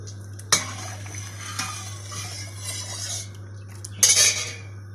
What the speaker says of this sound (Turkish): Bu kaşıkla, bu kaşıkla arkadaşlar 6 kaşık şeker koyuyorum.